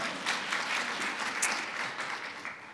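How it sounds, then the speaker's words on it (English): Audience applause at an arts museum event, a steady dense patter of many hands clapping at moderate volume throughout, with no talk over it. "You can clap."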